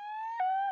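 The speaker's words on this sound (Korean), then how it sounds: "구급차 소리가 이상해. 고장 났나?" Malfunctioning siren of a rescue ambulance submarine in a Pinkfong Baby Shark children's cartoon: a short, steady electronic tone that wobbles and dips in pitch partway through, sounding alone with nothing else behind it.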